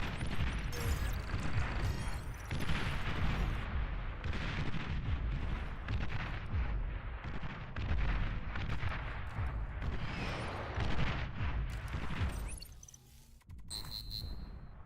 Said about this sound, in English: I like these artillery pieces.